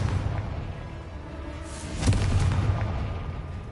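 A Confringo blasting spell going off in the Hogwarts Legacy video game, a muffled booming burst about two seconds in that rumbles low and fades over a steady game background.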